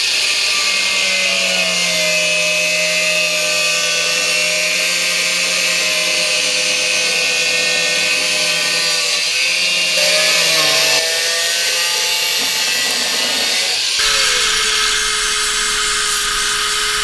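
A power tool whines loudly and continuously while cutting out old metal from the front inner wing of a 1970 VW camper bus, its pitch shifting as it bites and then dropping near the end.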